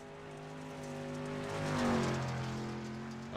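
A dirt late model race car roars steadily through a lap at Eldora Speedway in a racing game, its engine note rising and swelling to a peak midway before easing back, loud and continuous with no talk.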